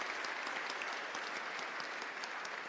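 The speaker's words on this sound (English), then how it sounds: "give her a loud round of applause for what her ambition and her dream is." A crowd of students at an institute in Bengaluru bursts into a loud, steady round of applause, dense clapping filling the room evenly from start to finish with no voices standing out.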